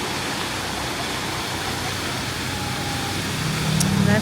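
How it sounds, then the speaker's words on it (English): Looking Glass Falls near Brevard, North Carolina, gives a steady, loud broadband rush of falling water that holds constant throughout, with a faint vehicle passing near the end. "And that's it. It's Looking Glass Falls."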